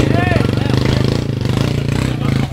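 A motorcycle engine revving at a race start, a close, loud, buzzing drone with rapid pulsing throughout, mixed with crowd noise and people talking over it.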